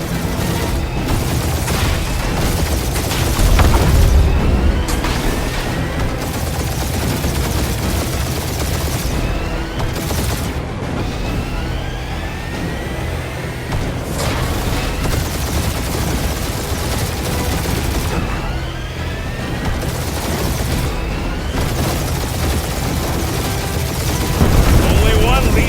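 Dense, continuous gunfire and booming explosions in Guardians of the Galaxy combat, loud and sustained with heavier blasts near the start and end, while voices talk over the battle.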